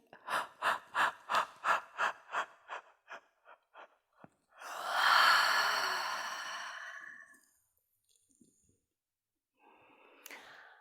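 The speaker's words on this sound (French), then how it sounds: "Bailler." During a French relaxation exercise class, a string of short rhythmic breaths leads into one long, close, voiced yawn that swells and fades, followed by silence and a faint final exhale.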